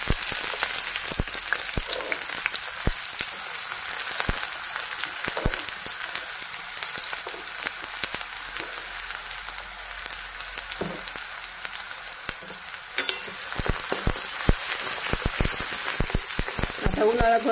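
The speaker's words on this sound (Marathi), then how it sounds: "आता आपण बारीक चिरलेला कांदा टाकू।" Finely chopped onion hits hot oil with bloomed cumin seeds, giving a close, steady sizzle and crackle with scattered pops and occasional stirring clinks; no talk is heard.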